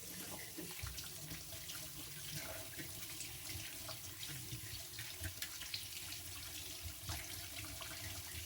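Tap water runs steadily into a sink to rinse soap off while a Victorinox Chinese cleaver is being sharpened, a soft continuous splashing stream with small irregular spatters, fairly quiet and close.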